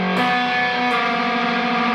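A single distorted electric guitar chord containing a minor second rings out with a gritty, clashing dissonance, sustained and loud.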